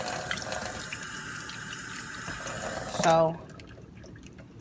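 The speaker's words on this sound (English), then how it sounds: "continue to pour the water off just like this" Rinse water poured off beans in a pot, with no strainer: a steady broadband pouring and splashing for about three seconds, then a brief louder gush before it stops and the sound drops to quiet. A voice speaks over the pour.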